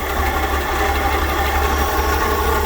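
A 1965 Chevy step van, fresh from a carburetor rebuild and with a small exhaust leak, idles with a steady, loud, even rumble throughout, close up and with no voices.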